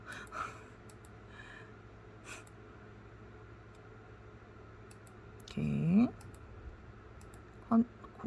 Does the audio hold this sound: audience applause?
no